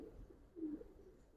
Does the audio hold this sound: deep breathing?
no